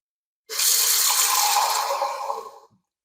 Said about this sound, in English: I'm about to add more water to it.